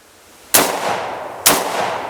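Two loud gunshots ring out at a shooting range, about a second apart, each a sharp crack followed by a lingering echo, with no talking.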